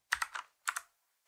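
Close, crisp keystrokes on a computer keyboard, typed in three short bursts of quick clicks separated by brief pauses, with no voices.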